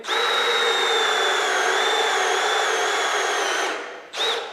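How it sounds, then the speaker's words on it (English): An electric drill whines steadily and loudly as it bores into an oil stone, cutting out briefly near the end before starting up again. "just pushes the whole drill in, nice and straight"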